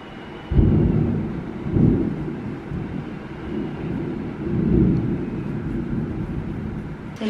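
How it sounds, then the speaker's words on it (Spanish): Heavy rain pours steadily while low rolling thunder swells and fades a few times, a loud beach storm during Tropical Storm Elsa with no voices. "comenzó a llover de nuevo"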